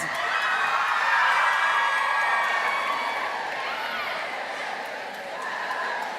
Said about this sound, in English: continue to give yourself a huge round of applause